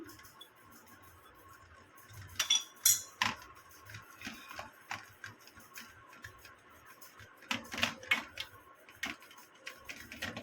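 A bowl taps against rajgira sukhadi being pressed flat in a tray, making a series of light, close clicks and knocks in bursts with quiet pauses between them.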